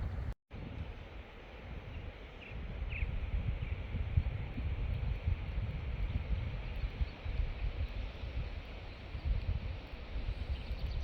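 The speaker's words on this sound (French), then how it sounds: "C'est vrai qu'il y a beaucoup de vent." Strong, steady wind roars across an open stretch of the GR65 hiking trail, a dense low buffeting rush that fills the whole scene and includes microphone gusts, with no talk.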